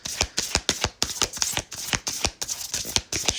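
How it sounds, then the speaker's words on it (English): Tarot cards shuffled continuously at close range, a quick regular run of crisp slapping riffles repeating several times a second with no talking. "I'm just going to shuffle until they tell me to stop"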